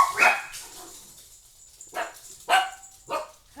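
Dogs bark in short, loud, separate bursts close by, several sharp barks with pauses between them, with no talk.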